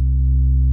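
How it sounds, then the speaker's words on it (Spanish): A reggaeton synth bass with distortion and the drive turned up holds one steady, loud, buzzy low note with no talk over it. "aquí le voy a añadir una distorsión y voy a empezar a subir el drive"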